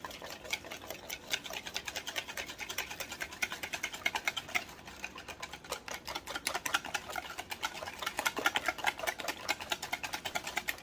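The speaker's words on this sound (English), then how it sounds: "Let me give that a whisk." Brown sugar whisked in a bowl to break up lumps, a rapid, steady ticking and clicking of whisk wires against the bowl that runs continuously for about eleven seconds, soft and close with no voices.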